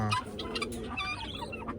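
Chickens clucking and a rooster calling close by, busy overlapping poultry sounds throughout amid the noisy background of the Muktsar horse and animal fair.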